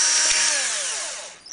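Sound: drill drilling into plastic container

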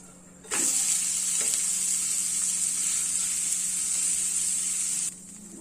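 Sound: uthappam frying in ghee on pan

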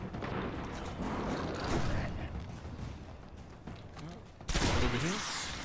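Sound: gunfire in the video game Destiny

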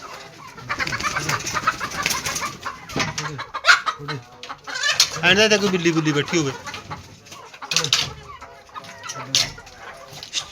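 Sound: chickens clucking

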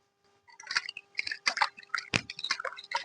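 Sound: rinsing hands with water after washing brass utensils

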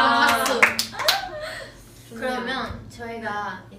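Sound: hands clapping

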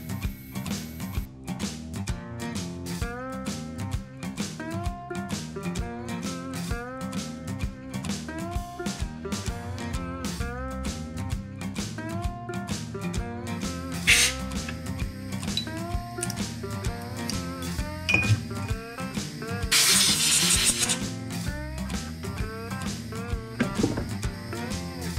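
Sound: CNC mill cutting the outside profile of a throttle body adapter

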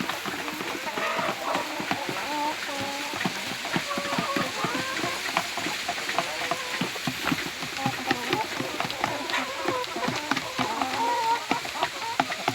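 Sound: laying hens clucking while eating

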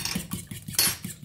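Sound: mixing bread dough ingredients with a spoon

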